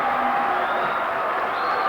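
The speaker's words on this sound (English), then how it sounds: "You can hear the crowd. It's loud in here." Crowd noise fills a gym at a 1987 high school basketball game between St. Augustine Prep and Wildwood High, a loud, continuous roar of cheering and shouting with no pauses.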